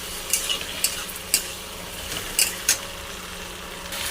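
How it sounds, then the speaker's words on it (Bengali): Ginger, garlic, onion and tomato paste being stir-fried for mushroom curry, a constant sizzle under a few sharp, close scrapes of a spoon against the pan. "আদা, রসুন, পেঁয়াজ, টমেটো দিয়ে দিলাম। এটাকে ভালো করে কষিয়ে নেব।"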